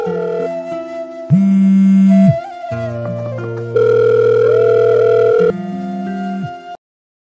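Telephone call tones sounding alone, with a series of loud steady electronic beeps and tone blocks that alternate in pitch and length for about seven seconds, then stop abruptly into silence.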